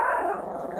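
A feisty small dog, about five pounds and one year old, gives a single short, sharp bark up close, fairly quiet and brief with no one talking over it.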